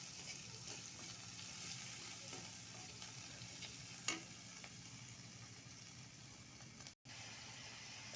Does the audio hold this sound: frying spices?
yes